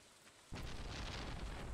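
Heavy rain begins abruptly in a farming video game, a dense, steady wash of noise that starts after a brief quiet moment and continues loud and unbroken.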